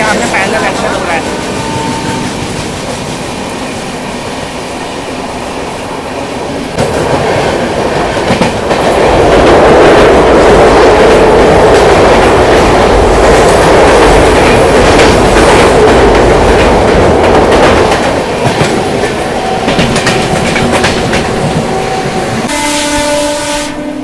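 The Shramjeevi Superfast Express passes close by beyond Ghaziabad toward Moradabad, heard from aboard the Vikramshila Express sleeper class, with a loud, sustained roar of wheels and rattling coaches, rhythmic clatter over the rails, and a long horn blast near the end.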